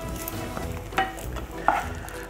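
Steady crackling sizzle of bacon frying in a pan, with a couple of brief clinks of a utensil against the pan.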